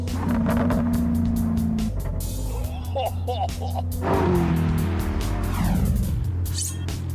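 An Alfa Romeo 8C engine revs and burbles on the overrun with crackling exhaust pops, loud and close, while someone talks over it.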